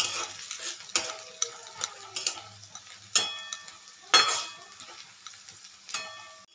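Chopped onions frying in a pan for a dhaba-style tadka dal, a soft steady sizzle broken by several sharp stirring scrapes and clinks of a spatula against the pan, close up with no talking.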